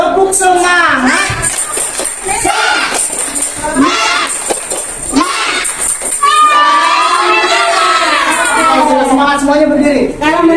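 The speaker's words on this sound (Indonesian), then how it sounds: "Coba tepuk semangat." Kindergarten children in a fire-safety lesson perform a rhythmic spirit clap cheer, a loud group of young voices shouting together with bursts of claps throughout.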